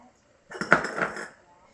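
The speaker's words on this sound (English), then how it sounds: "We're gonna mix this until all our ingredients are well mixed and that there's no lumps." Onion powder, paprika and garlic salt being stirred together in a bowl: a short burst of clinking utensil-on-bowl scraping lasting under a second, close and fairly quiet, with silence before and after.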